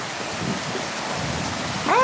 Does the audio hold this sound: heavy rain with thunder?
yes